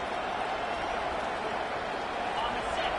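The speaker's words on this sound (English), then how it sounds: "listen to this crowd noise. This stadium is vibrating." Football stadium crowd noise, a dense continuous roar of many voices filling the space at steady loudness, with a commentator talking over it.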